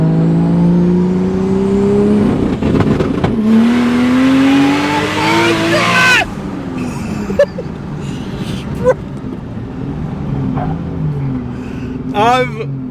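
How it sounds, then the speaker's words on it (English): A heavily built 2JZ-engined street car of about 1,000 horsepower pulls hard on anti-lag, the engine climbing loudly through the revs with crackling pops, then backing off to bursts and pops while people talk and shout inside the cabin. "Let's do a proper anti-lag pull."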